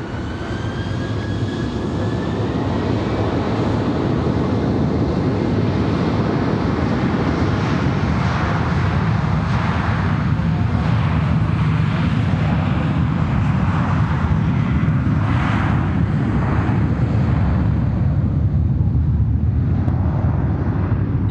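A jet airliner takes off from Fort Lauderdale airport with a loud, sustained engine roar and broadband rumble that continues steadily throughout, with a faint rising whine early on.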